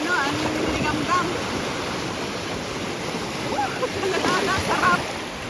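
Sea waves washing against the shore in Egypt, a continuous broad wash of water close by with faint voices mixed in.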